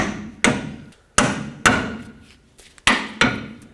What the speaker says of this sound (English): tap on the knuckle